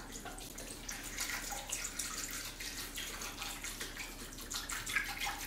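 Tap water runs steadily into a kitchen bowl that has lemons in it, a soft continuous splashing stream filling it toward halfway, close by with no talk.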